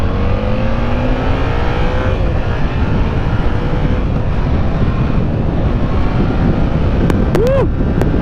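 A 2017 Yamaha FZ-07 motorcycle rides along at speed with a loud, steady roar of engine and wind buffeting the whole time, rising engine tones early on and a brief upward whine near the end.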